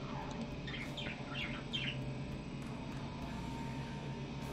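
Indoor pet birds chirp in a short run of bright, quick tweets near the start, then fall quiet over a steady low room hum, with no one talking.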